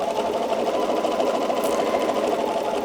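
A sewing machine stitches steadily through fabric during free motion quilting, making a continuous, fairly loud, even mechanical whir with no voices over it.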